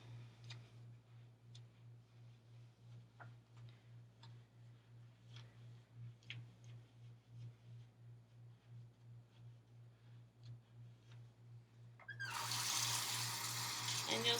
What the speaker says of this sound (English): so you really want to make sure you rinse them